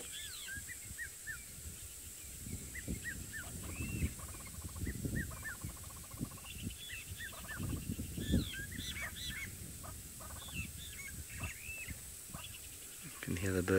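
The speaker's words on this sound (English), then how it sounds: "You can hear the birds going. Groop, groop, groop." Birds at a safari waterhole give repeated low, guttural groop calls scattered across a quiet outdoor scene, faint to moderate and somewhat distant, with other bird sounds and a steady background hiss.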